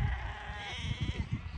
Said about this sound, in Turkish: kuzuların sesi ne güzel